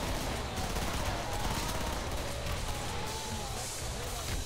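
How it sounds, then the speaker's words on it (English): Dense, continuous gunfire with muffled blasts rattles through a Killing Floor match, a busy, fairly quiet wash of shots and explosions with no clear gaps. "Throw grenades at him. Grenade spam."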